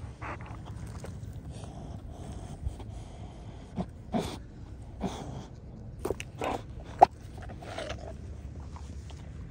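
A dog named Jackson eating nearby: irregular crunching bites and wet chewing snaps over a low steady background rumble, quiet and intermittent, with no talking.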